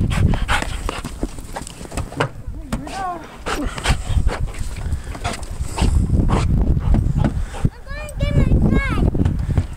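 A dog pants and whimpers close to the microphone during a winter snowstorm, with wind buffeting throughout and someone talking over it.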